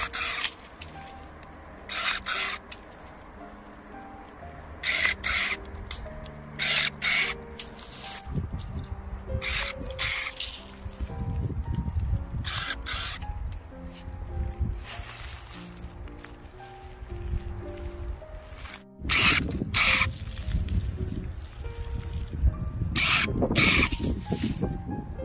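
Cordless electric pruning shears cut through a mulberry branch, giving a series of sharp, close snipping bursts spread over a steady low background hum.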